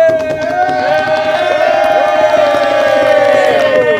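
A roast show audience cheers, whoops and applauds loudly and continuously, a dense wall of excited voices for several seconds.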